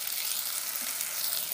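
Ginger and garlic, with turmeric powder added, frying in a pan, giving a steady, even hiss of sizzling oil that continues unbroken throughout with no voices.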